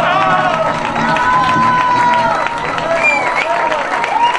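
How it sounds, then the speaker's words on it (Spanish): A festival crowd at the Sant Joan music festival in Ibiza cheers and claps loudly and steadily throughout, with shouting voices and whistles rising over the applause. "esto merece un gran aplauso"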